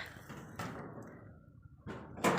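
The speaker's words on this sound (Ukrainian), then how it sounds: "закриваю ворота" A farm gate swings shut outdoors with a few creaking, clattering metal knocks and a louder bang at the end, close by and with no talking.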